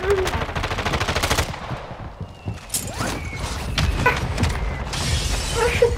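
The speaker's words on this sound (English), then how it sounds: "I'm taking fire!" Rapid automatic gunfire in Call of Duty Warzone 2.0, a dense burst of close shots for the first second and a half, then scattered shots and impacts with more firing building toward the end.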